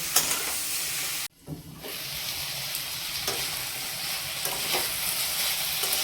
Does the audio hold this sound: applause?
no